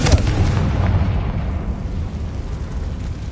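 A Confringo fire spell blast in Hogwarts Legacy on PS5: a loud, rumbling explosive burst that hits at once and then rolls on as a sustained roar, gradually thinning out, with no voices.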